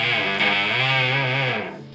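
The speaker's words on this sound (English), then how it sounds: "one of the first pedals in my chain is the Little Big Muff by Electro-Harmonix" An electric guitar played through an Electro-Harmonix Little Big Muff fuzz pedal sounds a single thick, sustained fuzzy chord that rings for about a second and a half, then fades quickly.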